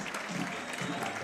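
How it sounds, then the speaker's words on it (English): A football stadium crowd applauds veterans at halftime, steady clapping spread across the stands at a distance, with announcer-style talk faintly mixed in. "You got the crowd on your feet."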